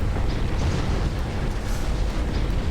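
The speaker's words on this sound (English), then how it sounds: "Torpedo hits." Torpedo striking a ship in a naval strategy game, a loud, sustained rumbling explosion filling the whole moment with dense low-end roar.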